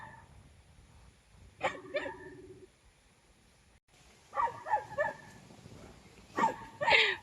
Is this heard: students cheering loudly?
no